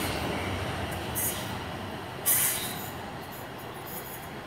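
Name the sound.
Class 444 trains departing Brockenhurst for London Waterloo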